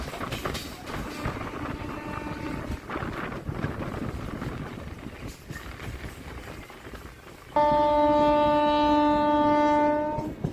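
A Howrah–Amta local train rumbles along with steady wheel and rail noise and wind buffeting, then a loud, sustained horn blast sounds close by for the last few seconds.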